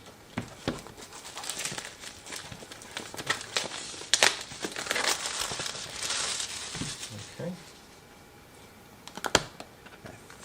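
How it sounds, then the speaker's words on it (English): A plastic seal being cut and cellophane wrapping peeled off, close crinkling and crackling with sharp snips and rustles in irregular bursts, a quieter lull, then a few more crisp crackles. "So I'm basically just going to kind of cut through this little seal that we had back here."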